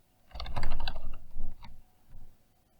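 Typing on a computer keyboard: a quiet, close flurry of quick keystroke clicks in two or three short bursts, ending with a few isolated taps.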